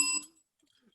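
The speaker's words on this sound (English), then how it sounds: "you ring the bell" A single bright ring of a bell, one sharp metallic strike with clear high overtones that decays within about a quarter second, followed by near silence.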